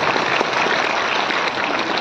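At an award ceremony of a Mahanubhav charitable organisation in Kotamgaon, Nashik, a crowd claps loudly and continuously for an honoured guest, a dense steady patter of many hands with no voices.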